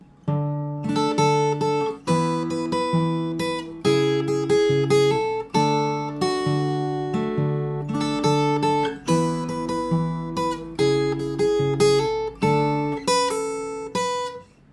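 Solo fingerstyle guitar plays the pre-chorus of a song, repeated plucked chord patterns with a walking bass and ringing upper notes, close-miked and steady, with no voices.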